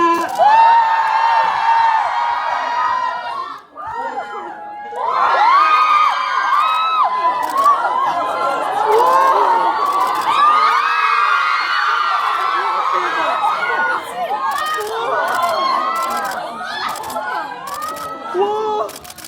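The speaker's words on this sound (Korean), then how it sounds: "모두 안전하고 즐거운 시간 될 수 있도록 자리에서 큰 박수와 환호 부탁드리겠습니다" A cinema audience at a group screening stage greeting in Yongsan CGV, Seoul, cheers and screams loudly and continuously for arriving actors, with high-pitched shrieks and whoops, a brief lull, then sustained crowd noise.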